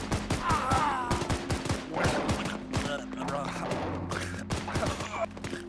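Gunfire in the military video game Arma 3: rapid, close bursts of rifle and machine-gun shots cracking in dense clusters, with voices talking over the shooting.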